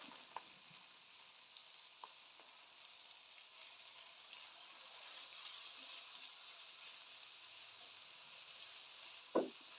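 Chopped onions fry in a pan with a steady, faint broadband sizzle, joined by a few soft stirring knocks and one louder clatter near the end, with no voices.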